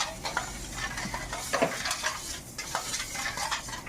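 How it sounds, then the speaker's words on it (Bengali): A ladle stirs sour sugar into water while making vinegar, giving a steady run of soft scraping swishes and light clinks against the pot, close and continuous, with no talking. "হাতার সাহায্যে এইভাবে নাড়তে থাকবো। নাড়িয়ে নাড়িয়ে এই টক চিনিটা আমি একদম এই জলের সঙ্গে গুলে নেব"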